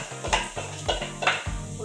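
Boiled prawn curry vegetables, cooked with salt and turmeric, are poured into a hot pan. Close, rhythmic scraping strokes carry a light sizzle, about four even pulses with a metallic ring.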